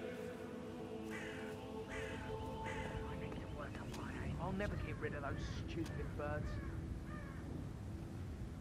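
Crows caw repeatedly in the Hitman 3 video game, harsh calls rising over a steady low ambient hum, moderately close and overlapping through the scene.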